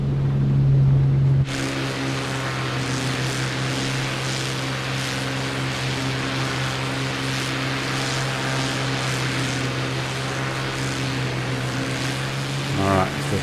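A Mig-3 fighter's piston engine in Microsoft Flight Simulator drones steadily at high revs, a loud continuous propeller hum with a rising pitch near the start and end.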